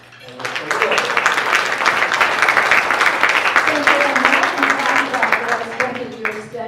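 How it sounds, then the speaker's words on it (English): A summit audience applauds a panel talk-show moderator. Clapping starts up quickly and stays loud and steady. A faint hum runs underneath and voices murmur through the applause. "let's give Tracy a round of applause"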